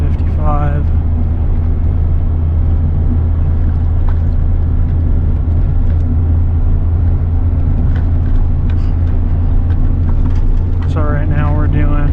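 A 24-year-old 8.1-liter gas V8 truck tows 18,000 pounds on a mountain pass, its loud, steady engine drone and road rumble filling the cab without a break.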